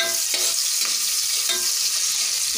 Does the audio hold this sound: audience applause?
no